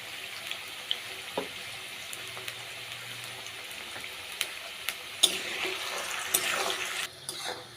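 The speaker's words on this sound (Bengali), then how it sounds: "আলুগুলি খুব ভালোভাবে লাল লাল করে ভেজে নিয়েছি।" Potato pieces fry in hot oil with a continuous close sizzle, dotted with scattered pops and occasional stirring clatters, the hiss growing fuller toward the end.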